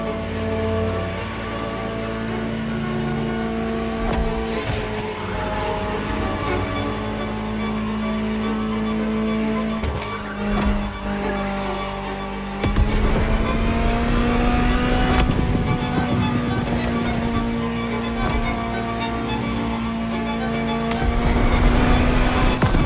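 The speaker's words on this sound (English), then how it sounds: "Just listen to the car you're driving." A powerful Ferrari supercar engine drones steadily, then the revs climb and surge louder as it accelerates, with gear shifts punctuating the roar.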